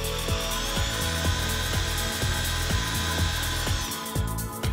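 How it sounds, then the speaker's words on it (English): A power drill bores through timber, widening a pre-drilled 10mm hole out to 15mm, with a steady loud motor whine and a regular pulsing rhythm of the bit cutting, close and alone without voices. "a 10mm hole is pre-drilled and then opened up to 15mm"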